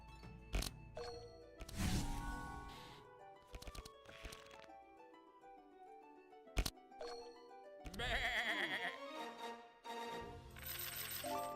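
Sheep bleats and cartoonish creature calls from the fantasy card game Across the Obelisk, mixed with coin-drop chimes, sharp impact cracks and busy musical game effects, loud and cluttered throughout.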